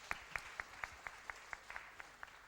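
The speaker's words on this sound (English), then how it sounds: "We give him another applause of clap." Faint, evenly spaced claps, about a dozen in steady rhythm, from a Christian ethics class audience applauding a guest doctor; no one talks.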